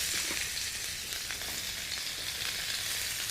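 Chopped onions and spring onion stems sizzle steadily in a hot wok after charred sausage has been lifted out, a dense, close, continuous crackle with no voices over it.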